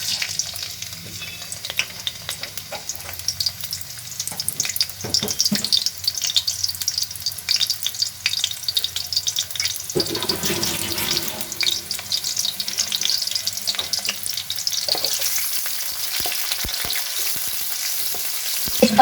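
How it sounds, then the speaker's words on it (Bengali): Sliced onions frying in hot oil for a papaya vegetable curry, a steady crackling sizzle with occasional scrapes of a spatula, loud and close with no talking. "আই থিঙ্ক তেলটাও গরম হয়েছে। এখন দুটো পেঁয়াজ কেটে রেখেছিলাম,"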